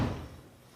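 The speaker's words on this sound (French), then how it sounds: "Qui est-ce qui claque la porte comme ça?" A door slams shut once with a single dull, heavy thud that fades quickly into quiet room tone.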